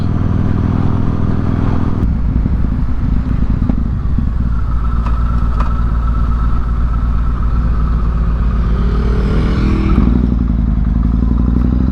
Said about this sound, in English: Those Ducati Multistraders do sound good,